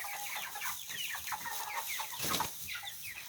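Young backyard chickens clucking and peeping in a coop, a busy continuous chatter of overlapping calls at moderate distance.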